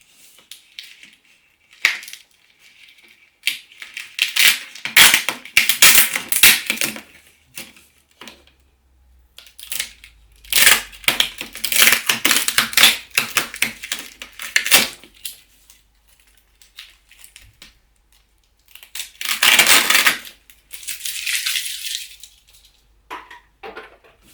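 Adhesive tape is torn and pressed onto a cardboard box packing a Synology DS1821+ NAS, heard as several close, crackling bursts separated by short quiet gaps.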